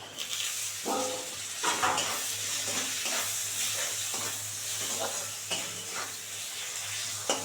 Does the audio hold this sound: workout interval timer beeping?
no